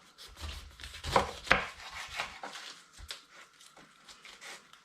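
A knife slicing the bottom off a pineapple on a cutting board: a few faint crunching, chopping strokes with a brief thud, quiet and close, with no talking.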